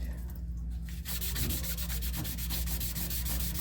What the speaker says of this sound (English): I like that sandpaper with the yellow backing on it because it's a whole lot tougher.